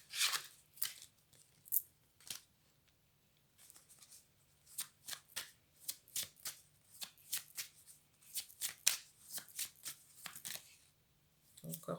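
A deck of cards being shuffled close by, with a quick run of crisp riffling snaps and flutters in uneven bursts and short gaps, fairly quiet and with no voices.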